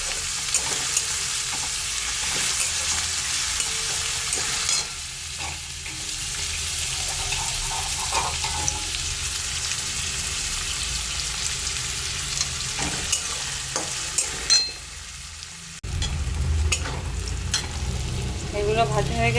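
Chopped ginger and garlic fry in a pan for chilli soyabean, a close, continuous sizzle broken by stirring scrapes and clatter.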